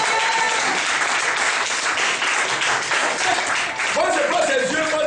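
A church congregation bursts into sustained, loud applause and cheering, a dense wash of clapping with voices calling out over it.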